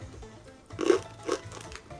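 Crisp bites into a crunchy fake cheese and salmon flavoured Russian snack, two distinct close crunches about half a second apart over quiet background sound.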